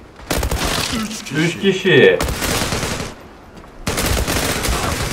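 Rapid automatic gunfire bursts in the Turkish online shooter Zula, loud and dense, broken by a short lull, with someone talking excitedly over the shots.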